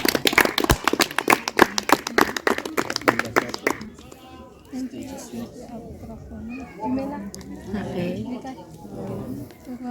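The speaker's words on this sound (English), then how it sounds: "A re mo amogeleng ka a round of applause" Crowd clapping at a Youth Day career exhibition welcomes a speaker. The sharp, fairly loud claps last about four seconds and then stop abruptly, followed by people talking.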